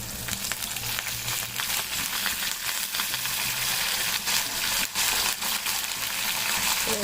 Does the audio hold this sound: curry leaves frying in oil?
yes